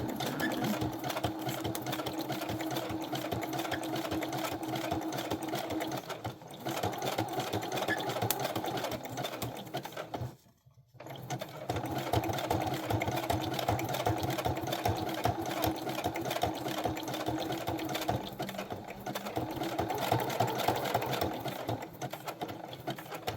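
A sewing machine back stitches in steady, rapid mechanical whirring bursts. The stitching breaks off briefly in the middle, then resumes at close range with a constant rhythmic drone.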